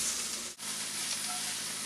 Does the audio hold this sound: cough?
no